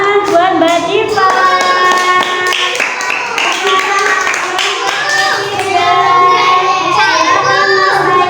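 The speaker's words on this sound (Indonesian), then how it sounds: "Oke, tepuk tangan buat Mbak Diva." A class of young children claps for a classmate at school, with quick bright hand claps mixed with loud chattering and sung-out children's voices throughout.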